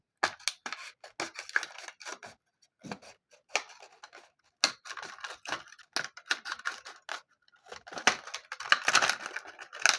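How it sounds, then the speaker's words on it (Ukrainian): Scissors snip through strips cut from a plastic bottle, making a quick run of sharp, close clicks and crunches in uneven bursts with short pauses, and no one speaking. "Оце вже можна за допомогою ножиць робити."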